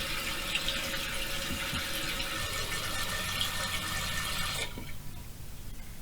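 A toilet tank refills after a flush, a steady rushing hiss of running water close by that cuts off abruptly near the end, leaving a quieter trickle.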